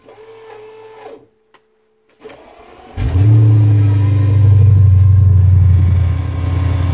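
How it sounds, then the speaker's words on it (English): Quiet noise, a short pause, then a track car's engine cranks and catches at about three seconds, settling into a loud, steady, close idling rumble. "let me just start the engine and show you all the values"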